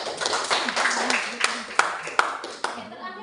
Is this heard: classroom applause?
yes